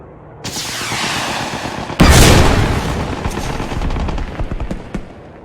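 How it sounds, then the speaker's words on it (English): Aircraft rocket and missile strafes in the game Post Scriptum: a loud rapid burst of fire, then a heavy booming impact at about two seconds followed by rumbling, crackling explosions and scattered blasts fading out. "These missile or rocket strafes are devastating."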